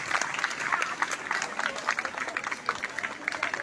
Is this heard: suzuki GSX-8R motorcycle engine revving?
no